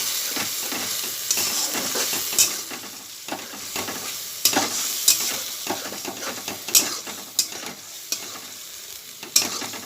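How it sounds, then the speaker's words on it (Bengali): Cumin spice paste with green chilli being sautéed in oil for a hilsa fish curry, giving a continuous close sizzle broken by repeated sharp scrapes and clinks of stirring. "মশলাটাকে কষিয়ে নেব।"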